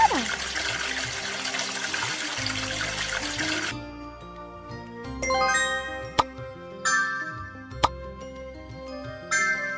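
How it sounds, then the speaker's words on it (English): Chimes and plinks in a kids' magic village game: a shimmering wash of sparkle gives way to bright, separate droplet tones and jingles over a soft, gentle tune. "A drop of magic water."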